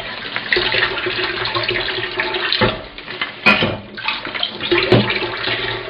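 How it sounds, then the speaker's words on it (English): Running water splashes steadily while dishes are washed up after cooking pasta, with brief clinks and knocks of crockery rising over the continuous loud flow. "And so the washing up continues."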